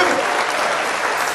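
Steady audience applause at a trot song festival in Taebaek, welcoming a singer to the stage, dense and continuous clapping throughout with no pauses.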